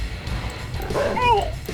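An attack dog in the Yuri's Revenge strategy game lets out a brief yelping, whining cry partway through, set against a steady rumble of battle noise.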